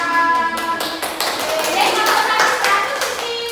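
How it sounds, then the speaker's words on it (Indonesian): A classroom gives Ica a round of applause, with close, dense clapping from a small group that carries on for several seconds, voices mixed in. "Oke, beri tepuk tangan untuk Ica"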